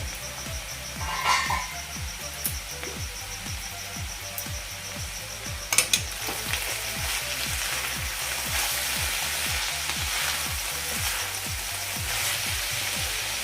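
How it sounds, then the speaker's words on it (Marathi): Steamed cabbage sizzling in a pan after the lid comes off, a soft steady frying hiss with a few clinks and a sharp rattle near six seconds, plus a faint regular ticking throughout. "आता आपण पुन्हा झाकण काढून घेऊया"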